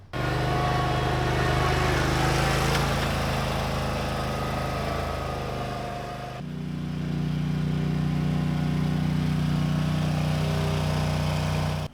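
Engine of a 2024 Bad Boy Rogue zero-turn lawn mower running close and loud, a steady low rumble whose tone shifts midway as the throttle or load changes, with no talk over it.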